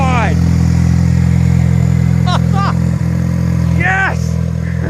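A Ford Focus ST sedan engine with an open downpipe runs loud and steady, a thick droning exhaust rumble filling the space while excited voices shout over it.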